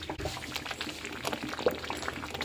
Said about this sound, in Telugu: నెయ్యి వేసాము.